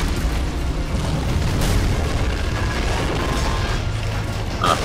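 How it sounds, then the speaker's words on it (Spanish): Explosion in the Men of War video game, a muffled boom amid a dense rumble of battle noise, with a brief sharper burst near the end. "Ah, otra explosión."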